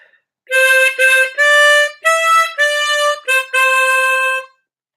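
Harmonica phrase blown and drawn on holes 9 to 11, a run of about eight bright, clear high notes with short gaps between them, close and loud with nothing else audible.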